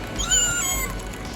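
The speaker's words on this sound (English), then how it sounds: "no, that's the cat, that's the cat." A short, tonal electronic-sounding meow from a Home Depot Halloween animatronic cat, rising-falling in pitch, fairly close and moderately loud, over a low background hum.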